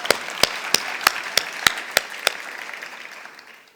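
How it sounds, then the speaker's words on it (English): Applause for a university choir at a research appreciation event, heard mostly as a single clear clapper up close, about eight evenly spaced claps over a soft wash of distant clapping that fades out. "let's give UJ Choir another warm round of an applause"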